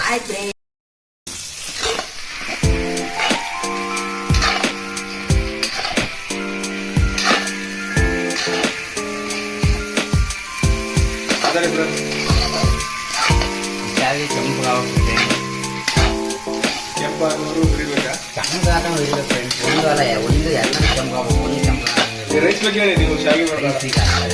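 Dried raisins sizzling and frying in a pan while being stirred for a moong dal payasam, a steady hiss with regular scraping strokes throughout, accompanied by background music.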